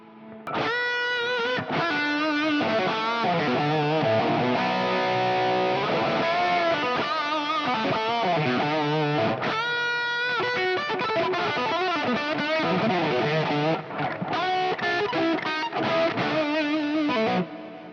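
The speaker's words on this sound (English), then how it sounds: "That's a lot of reverb," An electric guitar played through heavy plate reverb and delay rings out in sustained, distorted chords and melodic lines, with long washing tails filling the space, played alone without talk.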